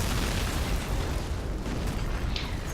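An artillery barrage in Company of Heroes, played with the Blitzkrieg Mod and its British Royal Artillery, roars as a dense, continuous wall of overlapping explosions and deep rumbling booms, loud and sustained.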